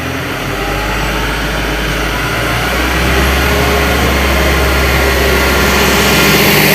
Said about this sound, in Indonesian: Tinggal kita putar saja dia akan naik RPM-nya.